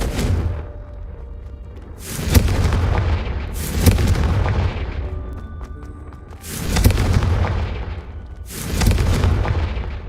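Confringo fire spell explosions in the Hogwarts Legacy video game, four loud booming blasts spaced a couple of seconds apart, each with a long roaring decay, no talk.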